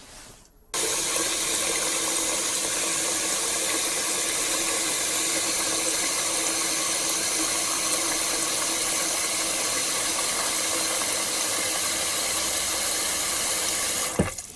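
Tap water gushing into a pot for lamb bone broth, a loud, steady rushing stream that starts abruptly and runs for about fourteen seconds before cutting off, heard up close with no talking.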